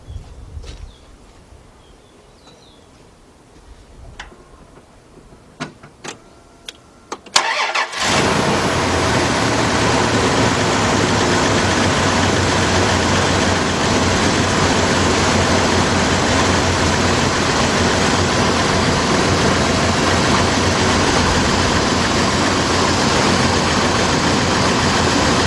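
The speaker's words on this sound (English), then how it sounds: "let's start this up again" A 1999 Dodge Dakota Sport with a replacement 3.9 engine cranks after a few quiet clicks and catches abruptly. It then settles into a loud, steady idle that continues unbroken for over fifteen seconds.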